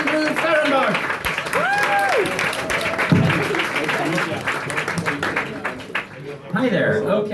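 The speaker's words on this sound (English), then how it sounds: "give him a big round of applause" Comedy-club audience claps for a comedian leaving the stage: broadband clapping runs throughout, loud and continuous, with tonal sounds and a voice over it, including a brief low thump just past the three-second mark.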